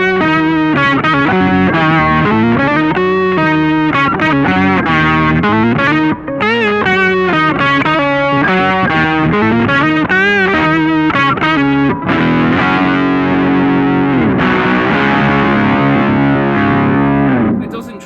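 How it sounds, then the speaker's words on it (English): Thick, distorted electric guitar soloing through a Boss OC2 octave pedal, fast notes with a deep doubled low end, loud and continuous, ending in a sustained chord. "turn on this Boss OC2 to kind of thicken up the sound a little bit"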